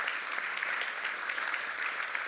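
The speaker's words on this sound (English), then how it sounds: "Round of applause for you to being involved." Audience at a patient partners event applauding steadily, a dense even wash of clapping from a room of people that holds at a moderate level throughout with no voices over it.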